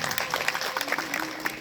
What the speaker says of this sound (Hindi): इसके लिए मैं चाहूंगा कि चीफ साहब के लिए जोरदार तालियां होनी